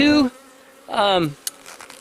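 Honey bees at a beekeeper's apiary zip past close by in two quick buzzing passes, each dropping in pitch as it flies away, with brief quiet between.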